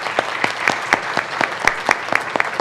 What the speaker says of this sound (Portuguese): Aplausos aos nossos debatedores.